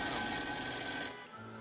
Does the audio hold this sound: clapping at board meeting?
no